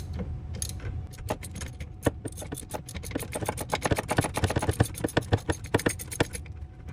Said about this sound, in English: using the ratchet with the extension, remove the two bolts holding the master cylinder into the vacuum boost.